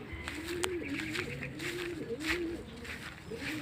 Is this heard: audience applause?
no